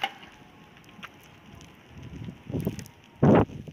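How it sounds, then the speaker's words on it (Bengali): Strong wind blows during a heavy New York snowstorm, a rough, rumbling gusty roar that builds unevenly, ending in one short, loud blast, with no voices. "প্রচণ্ড বাতাস,"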